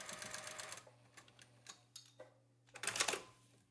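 Sewing machine stitching across a flat stretch of old denim jeans on a quilt pillow, a steady motor hum under a fast close whir with a loud burst near the end, no talk.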